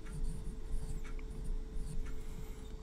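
Soft pencil strokes on paper during a cartoon character sketch, faint and close, in irregular short scribbles with small gaps between them.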